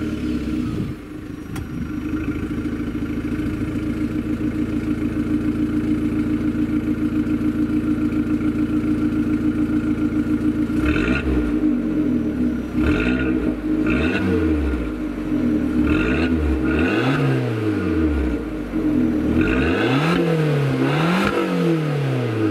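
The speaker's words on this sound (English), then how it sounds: "There's no soft limiter, there is masses of exhaust noise, so let's start it up and show you what this sounds like." An Abarth car engine starts, settles into a steady idle, then is blipped through repeated loud revs with heavy exhaust noise, each rise and fall close and clear with no talking.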